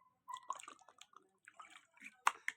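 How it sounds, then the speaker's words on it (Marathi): A young child swishing water in the mouth and spitting it out outdoors: quiet, scattered wet splutters and splashes in short bursts, with a final sharper spit near the end. "चूळ भरतोय बाहेर जाऊन"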